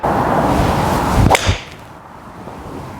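A single sharp, crisp strike of a TaylorMade Stealth 3 wood hitting a golf ball cuts through steady outdoor wind noise, followed by a fading whoosh as the sound trails away.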